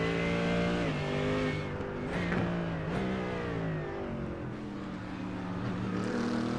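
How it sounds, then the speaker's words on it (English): A race car engine in the racing game iRacing, at Mount Panorama, roars steadily, its pitch stepping down in stages as gears drop, with a brief rise and dip midway; loud and continuous, no voices. "Having to use that downshift, getting those engine RPMs down to hopefully make those corners"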